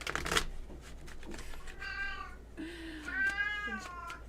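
A cat meows twice, two drawn-out, wavering calls heard close over a low steady hum, with a brief shuffling rustle just before them.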